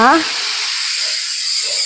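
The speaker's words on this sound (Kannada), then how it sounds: "ಯಾವ ಕುಕ್ಕರ್ ಕೂಕ್ತು ಅಂತ ನೋಡಕ್ ಬಂದೆ ನಾನು" A loud, continuous steam hiss of a pressure cooker whistle venting, close and steady, after a brief voice at the start.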